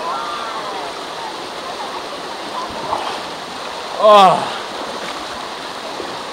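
Waterfall in Zion, with a steady rushing roar of falling water throughout. A voice briefly exclaims once partway through.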